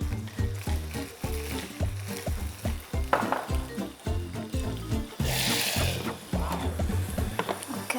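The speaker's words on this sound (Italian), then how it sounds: "anche le nostre pannocchie sono dorate al punto giusto, quindi le togliamo dalla griglia" Corn cobs on a hot grill sizzle steadily, with a rhythmic low thumping beneath the crackle and a brief louder hiss near the end; nobody speaks.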